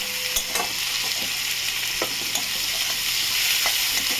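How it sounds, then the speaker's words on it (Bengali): Onions fry steadily in a pan, giving a continuous close sizzling hiss with a few sharp clicks and scrapes as they are stirred. "পেঁয়াজটা ভেজে আমি ফিরছি আপনাদের কাছে।"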